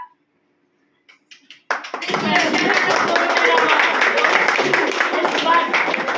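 After a near-silent start with a few faint taps, dense applause swells and holds steady at a lively level for an award presented at a Sadhana Academy ceremony, with the crowd's clapping blending into a broad wash.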